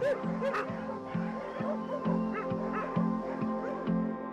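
Several caged dogs bark and yip in a steady repeating rhythm, with excited whimpering mixed in, fairly close and continuous over a busy background.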